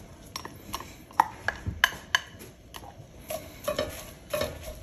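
Red onions sauté in melted butter in a braiser, with a soft sizzle under sharp spatula clinks and scrapes against the pan that come in irregular bursts, fairly close.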